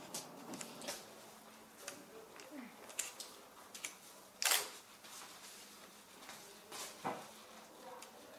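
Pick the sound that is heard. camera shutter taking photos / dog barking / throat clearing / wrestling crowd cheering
camera shutter taking photos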